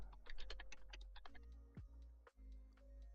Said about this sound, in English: I don't know why I'm typing these out rather than copying and pasting